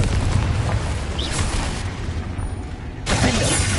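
A blasting spell going off in a fantasy wizard video game, a loud broadband burst with deep rumble that rolls on and fades, then a second blast erupts near the end.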